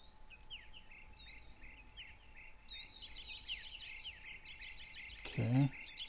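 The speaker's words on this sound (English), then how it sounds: "Lots of Tweety birds here right now" Many small birds chirp and tweet in quick, overlapping calls in a wild turkey hunting video game, fairly faint, with a steady insect-like buzz and a brief low rumble near the end.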